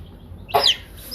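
A baby chick of the smoky pearl breed gives a single loud, close chirp, a quick bright peep with a short trailing note, against an otherwise quiet background.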